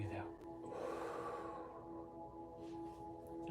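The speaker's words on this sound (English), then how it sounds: "and breathe out" A long, deep breath out is pushed through the mouth during a live stretching workout, audible in the first second or so over a steady background music tone.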